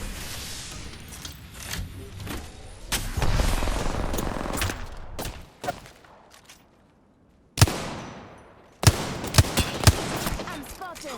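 Bursts of gunfire in the video game Apex Legends, played on PS4, crack out in rapid volleys and single sharp shots, some loud and close, others fading, with brief quiet gaps between exchanges.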